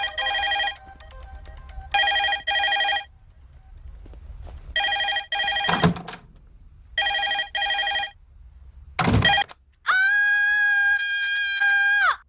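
A telephone rings in repeated bursts, loud and close, with spaced electronic trills separated by short gaps; a couple of sharp bangs fall between rings and a sustained ringtone tone closes it.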